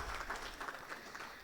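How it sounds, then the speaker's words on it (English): Brief, fairly faint applause rises from an audience at a Pakistani leadership conference, a soft patter of many hands clapping with no voices over it. "Can we have a huge round of applause?"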